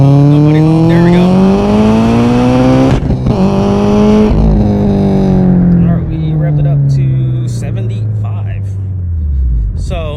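A big-turbo Subaru STI launches in second gear at about 3,000 RPM, its loud engine note dipping, then climbing and sagging again through a long pull while a person talks over it.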